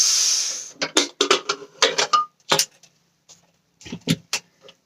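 A pressure cooker lid is worked open after two whistles: a brief hiss of released steam, then a string of close metallic clicks, scrapes and clanks of the lid and pot, trailing into quiet.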